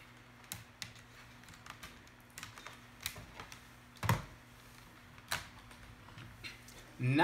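Keys clack in scattered, light taps on a brand-new wired computer keyboard connected to a Windows 10 laptop, quiet and close, with a louder thump near the end.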